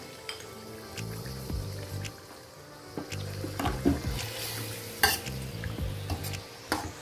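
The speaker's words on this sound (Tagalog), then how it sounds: "igisa-gisa po muna natin siya sa bawang, saka sibuyas" Chicken with garlic and onion sautéing in a pan, a low sizzle under rhythmic spatula scrapes and knocks repeating every second or so, close, with no voices.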